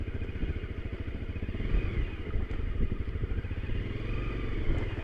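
A supermoto motorcycle rides offroad through cold water near a tractor, its engine running with steady rough revving and clattering throughout, close and fairly loud.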